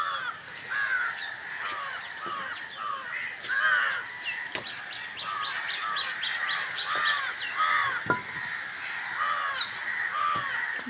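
Crows caw repeatedly from trees around a village at sunset, harsh calls overlapping in a steady chorus with other small birds chirping, fairly near and continuous throughout.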